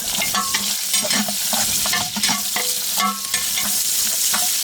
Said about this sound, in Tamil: நல்ல ஒரு பெரிய வெங்காயமாக எடுத்து ஒரு 2 வெங்காயத்தை இந்த மாதிரி கட் பண்ணி சேர்த்துங்க நீட்டாக.